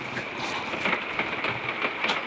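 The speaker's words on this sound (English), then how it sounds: "Normally we blame the rain on the Wagners" Steady rain falls at a campsite in Stonelick State Park, Ohio, a dense, even patter of drops striking surfaces nearby with no voices over it.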